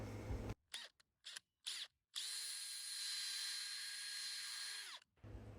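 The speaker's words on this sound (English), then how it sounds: "Time to pre-drill those screw holes we marked out earlier." A power drill pre-drilling screw holes for gate hinges gives a few short bursts, then runs steadily for about three seconds before winding down, loud and close.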